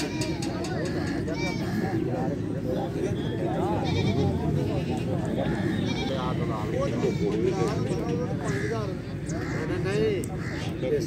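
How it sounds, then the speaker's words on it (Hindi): A pure Nagri goat bleats repeatedly at a busy Faisalabad livestock market, the cries rising over a dense murmur of voices and crowd noise, with people talking close by throughout. "ये प्योर नागरी बकरी है,"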